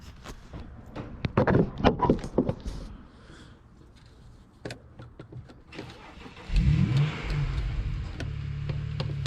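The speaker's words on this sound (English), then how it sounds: "My neighbor's got a race car." A race car engine revs and roars nearby, rising in bursts before settling into a loud, steady rumble.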